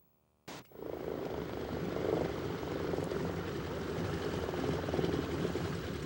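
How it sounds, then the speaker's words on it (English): After a brief silence, a bush plane's engine hum kicks in and holds as a steady, even propeller drone with no voices, at remote Rawhide Lake in Canada. "The only sound of civilization you'll hear at Rawhide Lake is the occasional hum of a bush plane."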